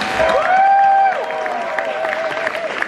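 An audience at Universal Orlando's horror make-up show applauds and cheers for a guest being called on stage, with a loud sustained whoop rising over a steady wash of clapping that carries on throughout.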